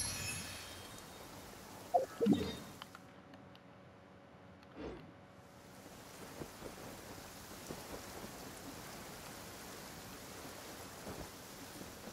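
Rain falls steadily in a courtyard in the video game Genshin Impact, with rolling thunder rumbling in the distance. A pair of louder crashes lands early on, and the downpour holds as a continuous hiss throughout.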